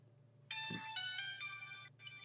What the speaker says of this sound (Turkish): Abi telefon çalıyor haberin olsun.